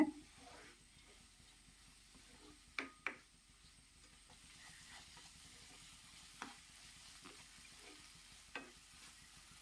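A soft, quiet sizzle of tomatoes cooking in a pan until soft, with a few sharp taps of a utensil against it.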